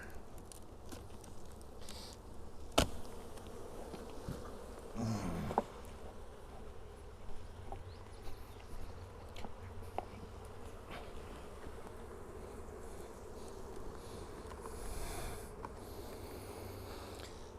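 Honeybees buzzing steadily as weak hives are combined, a faint, continuous hum close by, broken by a few soft knocks and handling sounds.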